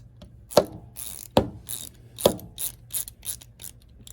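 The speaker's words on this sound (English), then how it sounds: "now this ratchet is fully rebuilt and ready to go again" A rebuilt Napa Carlyle R12TD ratchet clicks with three sharp, evenly spaced close-up clicks, followed by a quicker run of lighter ratcheting ticks, with no speech.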